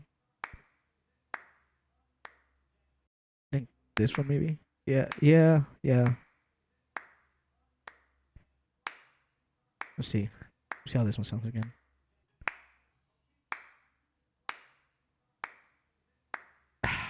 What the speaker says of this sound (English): Let's see if there's another clap that could like follow it along.